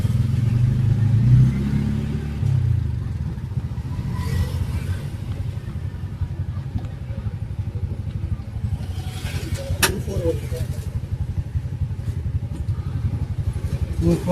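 An auto rickshaw pulls away toward a pickup, its small engine putting out a steady, rattling low drone that is louder at first and then settles, with some background street noise.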